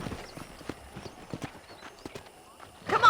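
Steady clip-clop of horse hooves at a walking pace in the video game Red Dead Redemption, with a short neigh or snort rising at the very end.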